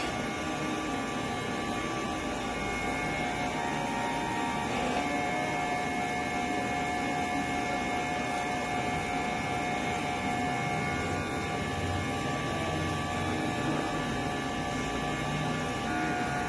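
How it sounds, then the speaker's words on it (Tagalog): A DTF printer hums steadily through a head-cleaning cycle, a constant mechanical drone with a faint high whine running evenly throughout, no voices. "Una, i-head clean lang natin."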